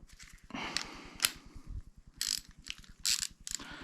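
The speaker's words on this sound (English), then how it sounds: "It's a 19mm socket, counterclockwise, and that comes out." Ratcheting socket wrench with a 19mm socket loosening a bolt on a STIHL MS250C chainsaw during servicing, giving bursts of close, rapid metallic clicks over a steady low mechanical hum.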